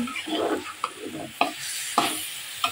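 Bengali home cooking of corn greens (bhutta shak) curry, with a utensil stirring and scraping in a pan over a soft sizzle, a few sharp clicks of metal on the pot recurring every half second or so, close up with no talking.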